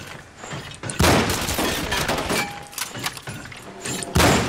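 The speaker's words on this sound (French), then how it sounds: "Arrête, je recharge là." Weapon handling in the game Cryostasis: heavy mechanical clacks and thumps of a gun being reloaded, with sharp metallic bursts scattered through a busy, loud stretch.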